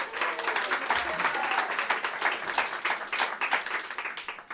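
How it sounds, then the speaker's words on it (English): Sustained audience applause from a crowd at a civic event in New York, dense steady clapping filling the whole stretch at fairly loud level, with no speech over it. "give a round of applause there"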